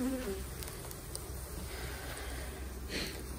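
Honeybees buzz around very strong hives on a farm. The steady, dense drone is close and continuous, with single bees passing near and no talking.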